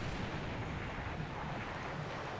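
Naval gunfire from Allied destroyers at sea in the War in the Pacific game, a dense, continuous roar of booming shots and rumble with no clear gaps, loud and sustained.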